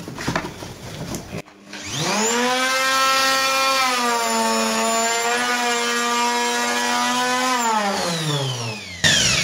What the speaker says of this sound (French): Je règle avec la défonceuse.